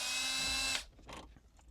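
Power drill whirring steadily as it backs out screws from an Infiniti Q50 center console, a loud close continuous whine lasting under a second before cutting off into quiet handling noise.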